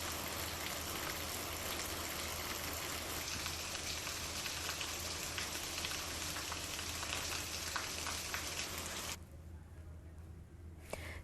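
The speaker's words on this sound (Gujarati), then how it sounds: "સુરતમાં મેઘમહેર થઈ રહી છે" Steady rain pours in Surat, Gujarat during the monsoon, a dense continuous hiss of drops on surfaces with a low background rumble, easing to a softer patter near the end.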